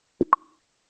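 A short two-note interface sound imitates a spoken "uh-huh": a soft low plop followed by a higher, brighter plop with a brief ringing tail, clean and isolated in silence.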